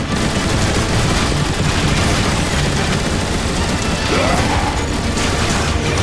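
Turret gun emplacements in Transformers: War for Cybertron fire in dense, continuous bursts, a loud rattling barrage layered with mechanical clatter and crashes throughout.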